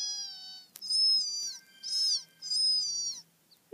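A cat meows three times up close, drawn-out high calls with short pauses between them.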